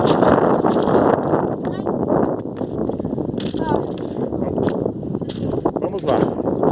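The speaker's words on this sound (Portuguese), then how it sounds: "Muita ventania, né?" Strong gusting wind buffets the microphone at an abandoned section of the Transnordestina railway construction site near Salgueiro, a loud rumbling roar that rises and falls while people talk over it.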